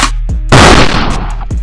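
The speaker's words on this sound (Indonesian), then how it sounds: "suara tembakan terdengar lagi." A single loud gunshot bursts sharply and rings out briefly, with quieter clicks and thumps before and after.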